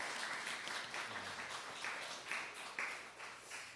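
A congregation at a German-based Korean church's Advent Sunday service applauds to welcome one another, a soft, distant patter of many hands clapping continuously throughout, without talk.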